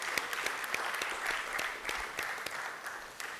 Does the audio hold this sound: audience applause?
yes